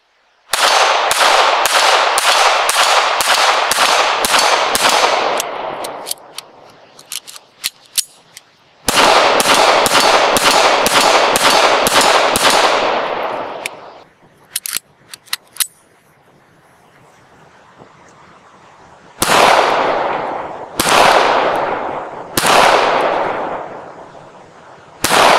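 HK P7 pistol fired outdoors in rapid strings of sharp, loud gunshots, each string several shots in quick rhythm, with pauses between strings and a few single shots near the end.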